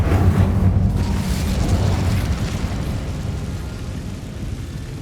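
A fire spell cast in the Hogwarts Legacy video game bursts out as a loud, rumbling whoosh with a low booming roar that stays dense and steady for several seconds and fades only slightly toward the end.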